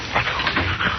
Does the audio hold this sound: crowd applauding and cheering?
no